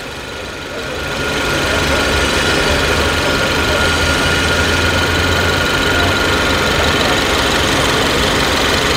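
A car's GDI gasoline engine idles at a vehicle inspection in Port Said storage yards. The hum is loud, even and unbroken with a steady low drone, rising in over the first second and then holding constant.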